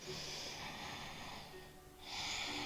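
Audible yoga breaths drawn in and pushed out through the nose and throat, a steady airy hiss that dips briefly before swelling again, with no talking.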